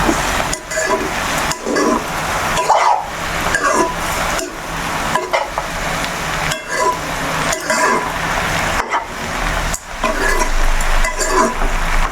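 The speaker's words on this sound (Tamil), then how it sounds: "உப்பு அதில் போட்டோம்னா நல்லா சீக்கிரம் வதங்கிறோம்" Onion, mushroom and spices for a mushroom gravy sautéing with salt in a pan: a continuous soft sizzle with repeated scraping stirs, fairly close.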